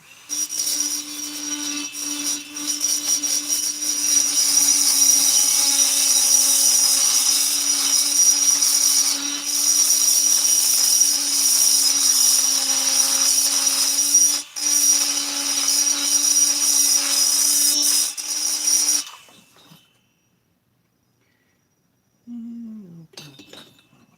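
Rotary tool fitted with a ball diamond bit beveling an edge, a steady high-pitched whine with a constant grinding tone held loud for about nineteen seconds, briefly dipping once, then cutting off to near silence with a faint low tone at the end.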